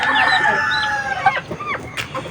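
A rooster crows loudly nearby, its drawn-out call fading into a few short clucks from chickens close at hand.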